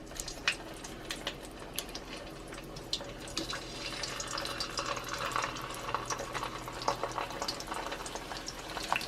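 Potato steak fries dropped into oil at about 280 degrees for their first fry, a soft, steady bubbling and crackling with scattered pops, faint and continuous.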